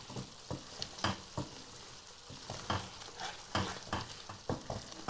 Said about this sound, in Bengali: কষানো হয়ে গেছে, এখন দিয়ে দেবো আমি ইলিশ মাছ।